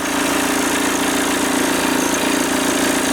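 A Volkswagen T25 van with a swapped-in TDI diesel engine, freshly overhauled injectors, idles steadily and loudly up close, a constant low rumbling drone with an even vibrating beat and no voices.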